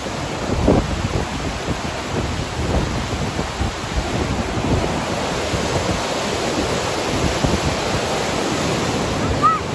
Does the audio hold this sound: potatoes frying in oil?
no